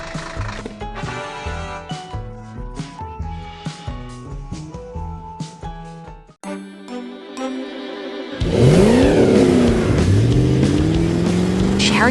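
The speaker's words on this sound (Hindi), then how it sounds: "शहर की शांत सड़कों पर एक बैंगनी दानव ट्रक अपनी यात्रा पर निकल पड़ा है।" A cartoon purple monster truck pulls away on quiet city streets with a loud, close revving engine sound that swells and sweeps after a stretch of playful music.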